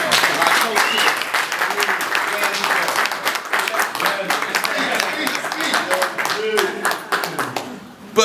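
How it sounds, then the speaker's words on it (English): A round of audience applause at a gospel heritage gala at the Kennedy Center: steady, full clapping from many hands with scattered voices and cheers mixed in, easing slightly before a louder burst at the very end. "Give a round of applause for my co-chair."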